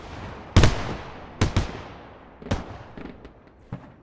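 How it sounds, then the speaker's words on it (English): Frag rounds from a BMP-2 infantry fighting vehicle in a military shooter game, landing as a few sharp, loud explosive bangs spaced irregularly, each with a short rumbling tail, and no talk over them. "Frag rounds from the BMP-2 coming in."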